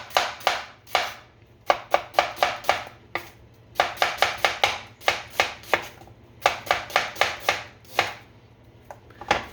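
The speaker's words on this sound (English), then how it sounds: "So I'm just gonna slice these about 1/2 centimeter." A knife slices vegetables on a cutting board for fried rice, making bursts of quick, crisp chops in rapid runs with brief pauses between them, close and loud with no talk.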